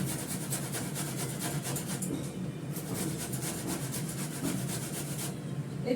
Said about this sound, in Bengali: এটা গোটা রসুন আমি ঘষে নিচ্ছি।